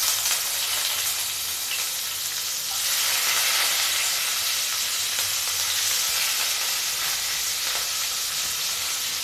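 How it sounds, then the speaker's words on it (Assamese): A medium onion sizzles in hot oil in a pan for an Assamese curry, a steady bright hiss that holds for the whole stretch and swells slightly partway through, with no voices. "এটা মিডিয়াম সাইজৰ পিঁয়াজ কাটি দিছোঁ।"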